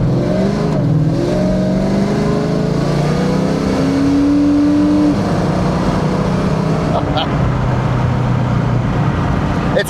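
A Ford Mustang Fox body on street tires accelerates hard, its engine note rising and roaring loud and close for several seconds with a steady, dense rumble.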